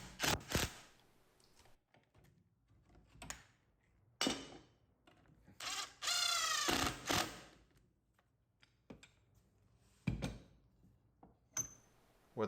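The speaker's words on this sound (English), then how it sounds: "and now I can put the screws in." Screws are driven into the leg of a simple wooden love seat, giving several short, sharp bursts of driver whir and clicks spaced across a quiet shop, with one longer sustained run near the middle.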